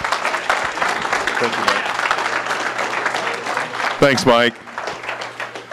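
Audience applause at a public rally, steady clapping from a crowd filling most of the clip, with someone briefly speaking over it near the end.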